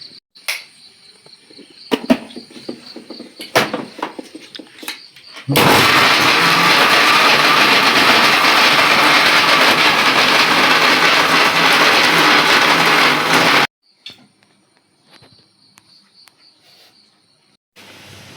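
A grinder runs continuously for about eight seconds, grinding soaked urad dal and rice with water for dosa batter in a Tulu Nadu home kitchen. It is loud and steady, with quieter clatter and faint background sounds before and after.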